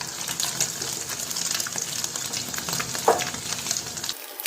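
Paneer pieces fry in a pan with a continuous sizzle and light stirring clatter, close and steady, with no talking.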